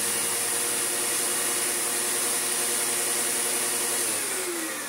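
A Sebo X7 upright vacuum cleaner runs steadily and close by, its motor giving a constant loud airy whine with a high tonal hum that eases slightly near the end.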